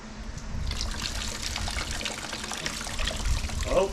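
Coolant from a 300ZX with the #3 cylinder, resealed around its VG engine, pours and trickles steadily onto the ground, a continuous close splashing stream lasting the whole moment without speech.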